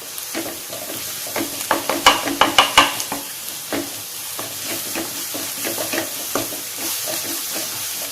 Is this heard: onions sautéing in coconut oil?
yes